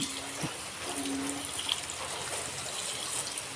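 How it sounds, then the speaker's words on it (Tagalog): Water pours steadily into a container as drinking water for chickens, turkeys and Pekin ducks, a continuous close splashing gush that holds at an even level throughout. "Magdadagdag tayo ng tubig"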